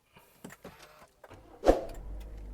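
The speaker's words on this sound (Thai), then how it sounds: "ขออนุญาตสตาร์ทรถให้ดูแล้วกันนะครับ" A 2019 Toyota Altis 1.6G is push-started, giving a brief starter whir and catch, then a low steady idle; a few soft clicks and interior thumps come before it.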